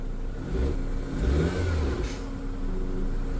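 A car converted to run on LPG gas revs up, its mid-pitched engine rising briefly to a peak before settling back into a steady idle hum, close and fairly loud.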